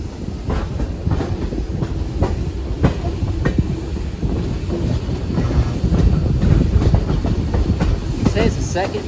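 A heritage steam excursion train rolls along rails with steady clickety-clack of wheels and rumbling carriages, close and continuous, with some wind buffeting the microphone.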